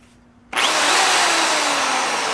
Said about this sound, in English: That's the drill.